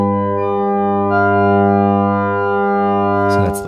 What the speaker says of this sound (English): So the first harmonic chord sounds like this.